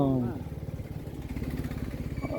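A motorcycle carrying a family is ridden at moderate speed along a smooth, well-paved road on the route toward Alangulam; its engine drones steadily and close throughout, with a voice briefly audible at the start.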